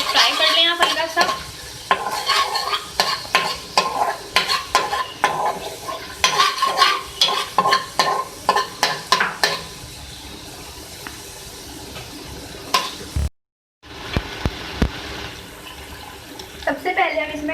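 Ginger garlic paste fries in hot oil in a pan for samosa filling, with a steady sizzle and repeated scraping stirs of a spoon, close and busy, pausing briefly near the end before the stirring resumes.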